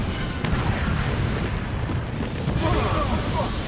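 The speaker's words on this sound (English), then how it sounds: "So Superman and Martian Manhunter get knocked out by the explosion" A cartoon asteroid exploding in an animated Justice League episode: a loud, continuous rumbling blast with dense booming roar filling the whole stretch, no clear speech over it.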